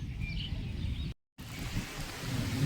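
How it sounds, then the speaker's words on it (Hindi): Rain pours down in strong, gusting wind outdoors, a steady broadband rush that stays loud throughout apart from a brief dropout near the middle, with no talking. "अभी बारिश बंद नहीं हुई है, और ना हवा भी बहुत जोर जोर से चल रही है"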